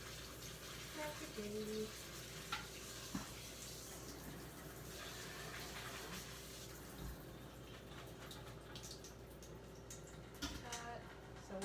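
A kitchen tap runs steadily while vegetables are washed under it, giving a quiet continuous gush with a few faint clinks, and a voice speaks briefly over the flow.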